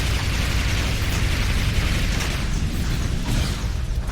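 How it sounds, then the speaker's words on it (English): Explosions in the video game Sanctum, a dense, continuous rumble of booms and bursts at steady loudness with no speech. "Explosions."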